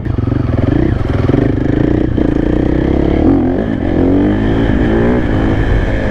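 A new supermoto motorcycle, still being broken in, revs loudly during wheelie practice, its engine note rising and falling in a close, continuous buzzing roar.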